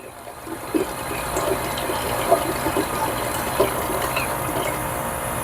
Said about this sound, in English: So I'm going to go ahead and press that, and then you can see it's rinsing it out.